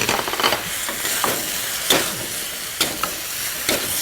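Tomatoes being stirred into eggplants frying in a pan, loud close sizzling broken by repeated scraping strokes of a spoon, roughly one every second, with no talking.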